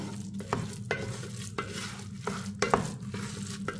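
Sprouted black urad dal rice being mixed with fried ingredients in a pan with the gas off, giving a steady run of close spoon scrapes and soft sizzling in an uneven stirring rhythm.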